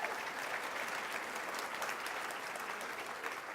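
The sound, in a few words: audience applause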